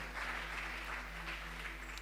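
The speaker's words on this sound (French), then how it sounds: "Est-ce qu'on peut acclamer très fort pour le Seigneur?" Congregation at a Sunday church service applauding for the Lord, steady faint clapping heard from a distance over a low electrical hum.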